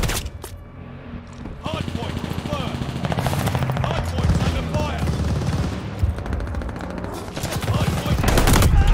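Rapid gunfire and automatic weapon bursts in Call of Duty: Vanguard on the Hotel Royale map, crackling loudly and almost continuously, with someone talking over the shooting.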